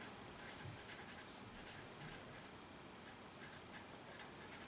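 Pen or marker scratching on a writing surface while a spring diagram is drawn, soft quick strokes in bursts, fairly faint and close with no talk.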